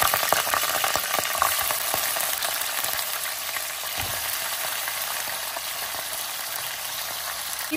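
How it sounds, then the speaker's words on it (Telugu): Mutton pieces fry in oil in a kadai pan for a kadai mutton dish, giving a steady, close sizzle and crackle throughout with occasional stirring, and no talking. "ఇప్పుడు ఈ మటన్ని శుభ్రంగా ఈ నూనెలో వేపుకోవాలి"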